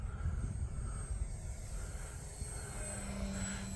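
An E-flite Night Radian 2.0m RC glider with electric motor flies overhead outdoors, a steady, fairly faint motor drone over wind rumble with no talk.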